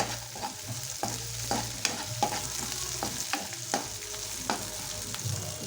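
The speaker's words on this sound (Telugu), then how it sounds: "బాగా కలుపుకుందాం." A spoon stirs a tempering of onion, green chilli and spices frying in a pan, with repeated scraping strokes over a steady sizzle, close and moderately loud.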